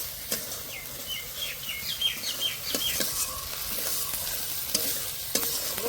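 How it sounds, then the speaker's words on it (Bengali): Coriander paste being stir-fried for a rohu fish curry, a steady soft sizzle with scraping stir strokes and occasional sharp clinks of the spatula against the pan, close and continuous. "এবার ধনেপাতা বাটাটা দিয়ে দেব। এবার ভালো করে কষে নেব।"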